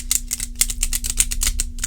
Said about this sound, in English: My biggest complaint with Hay House decks is they're so hard to shuffle because the cardstock is so very thick